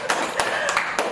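A short, close burst of audience clapping during a talk on women entrepreneurs, with a few distinct claps standing out.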